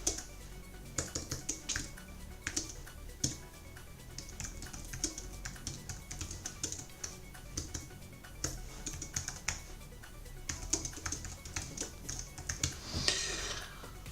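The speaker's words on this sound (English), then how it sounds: "I lost my train of thought while I was typing in the chat there." Quick irregular clicking of a computer keyboard being typed on, soft and close, with bursts of keystrokes and brief pauses, no voices.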